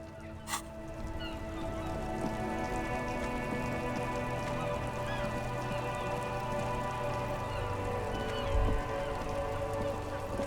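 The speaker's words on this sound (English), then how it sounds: "All around you, rain falls on the great city of Revachol. Rain drips from the eaves and floods the gutters, washing the filth away." Rain falls and drips across a city in Disco Elysium, a soft continuous patter with dripping eaves and running gutters, steady and fairly quiet, with one brief sharp knock near the start.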